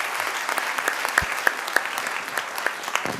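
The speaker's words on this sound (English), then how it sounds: "let's give her a round of applause." An audience at a community volunteer awards ceremony claps steadily in a fairly close, even round of applause, with a few sharper individual claps standing out.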